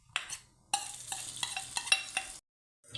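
Ginger-garlic paste dropped into hot oil and ghee sizzles in a pan while being stirred, with bursts of frying crackle and clinks of a spoon against the vessel, close and fairly quiet, then a brief silence.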